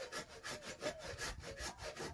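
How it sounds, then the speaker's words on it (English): A hand saw cuts into wood for a carved Tlingit mask, making quiet close rasping strokes in a steady back-and-forth rhythm of about eight passes, with no voices. "this hand saw will go right in the hole here. And so I'm going to go ahead and do some sawing"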